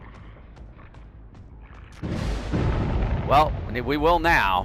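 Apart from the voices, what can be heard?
hex totem breaking, from a video game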